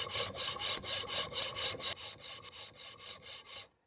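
A hand saw cuts through metal, rasping back and forth in steady, even strokes, close and fairly quiet, each stroke a bright scraping hiss; no voices.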